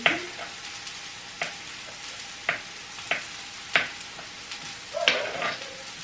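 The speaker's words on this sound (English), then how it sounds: "my mum's going to stir the onions for me whilst I'm cutting these up. And we don't want them to burn" Onions frying in a pan with a soft, steady sizzle, punctuated by sharp scraping stir strokes at irregular intervals, close by and with no talk.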